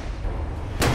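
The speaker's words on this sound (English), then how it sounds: "That was a good explosion, right?" Natural gas ignited in a test explosion, bursting out as a sudden loud broadband blast near the end after a low rumbling lead-in.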